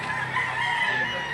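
A chicken crows at a livestock auction market in Lipa City, Batangas, a brief, fairly faint call with crowd noise around it.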